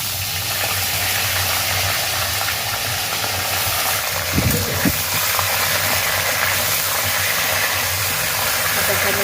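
A fish head sizzles in hot oil with cumin and bay leaf in a wok, a steady loud hiss with a brief crackle midway, while someone talks over it.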